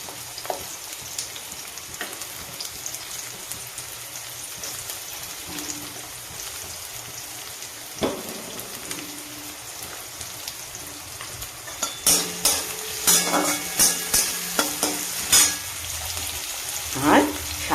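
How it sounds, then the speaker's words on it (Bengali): Two chopped onions sizzle and fry in mustard oil, a steady crackle in the pan broken by stirring scrapes and clatters, getting busier and sharper toward the end. "পেঁয়াজটা একটু ভেজে নেব।"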